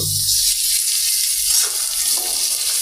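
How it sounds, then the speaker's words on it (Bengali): Ginger-garlic paste sizzling in a hot pan, a steady bright hiss that holds evenly throughout, close and fairly loud, with no talking over it. "এই যে আদা রসুন বাটাটা আগে দিয়ে দিলাম, এটা আগে কিছুক্ষণ ভেজে নেব"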